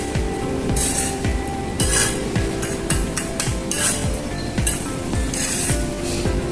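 A small batch of cement mix is stirred by hand, giving repeated gritty scrapes and clinks in a steady rhythm, close and fairly loud, with no talking.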